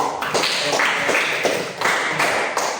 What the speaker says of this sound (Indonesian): Kalau tidak ada, tepuk tangan dulu